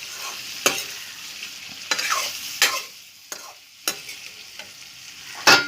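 Pork and potatoes stirred in a cooking pot, a low background sizzle broken by several sharp, close scrapes and knocks of the spoon against the pot at uneven intervals.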